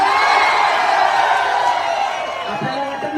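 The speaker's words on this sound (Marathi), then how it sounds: "करा टाळ्या" Crowd at a Maharashtra Kesari kushti wrestling match, a loud mass of cheering and shouting voices that swells then eases slightly, continuous throughout.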